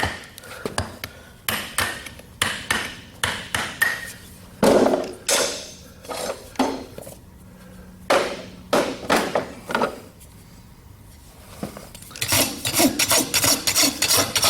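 Repeated rough rasping strokes of a rasp on a shod event horse's hoof, in steady back-and-forth bursts with short pauses, close and clear.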